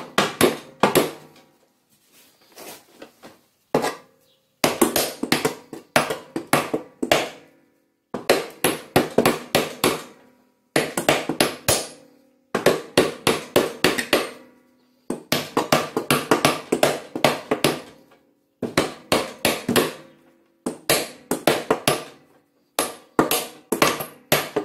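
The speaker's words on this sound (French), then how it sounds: "en mettant des petits coups de marteau derrière, on va réussir à l'extraire" Bursts of rapid, sharp hammer taps ring on metal while knocking out a lawn mower blade support, clusters of close, bright blows separated by short pauses, repeated many times.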